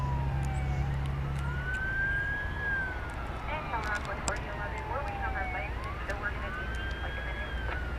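A wailing emergency siren rises and falls in the distance at DFW Airport over a steady low engine rumble, with faint background voices and clatter.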